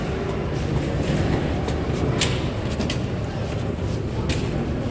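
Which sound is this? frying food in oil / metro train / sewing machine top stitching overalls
metro train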